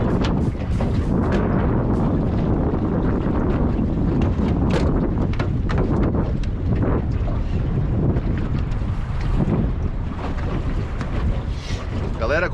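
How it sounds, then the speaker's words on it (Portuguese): Strong offshore wind buffets a boat at sea during a coastal fishing trip, a loud, constant roar of gusts and microphone rumble throughout, with no clear talk. "Como vocês podem ver, o vento terral tá bem forte."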